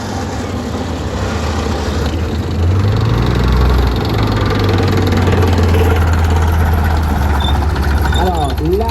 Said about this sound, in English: Alors, on a un char d'assaut qui monte. C'est la Léopard C2.